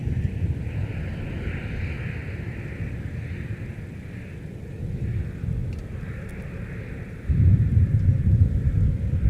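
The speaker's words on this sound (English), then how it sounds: "There's our Spirit Wings flight off to Orlando, Florida." A Spirit Airlines jet takes off from Minneapolis–St. Paul airport bound for Orlando, its engines a steady roar that swells louder toward the end, with no voices over it.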